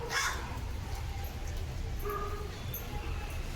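A crow caws a few times outdoors at a home garden where food is set out for it, brief calls over steady background noise with faint voices.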